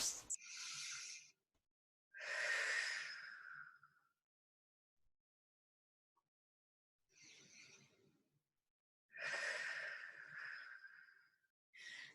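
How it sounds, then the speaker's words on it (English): Deep breaths during a hip stretch: slow, close, airy inhales and exhales in four separate breaths with quiet pauses between them. "Take 2 deep breaths, compress the hips."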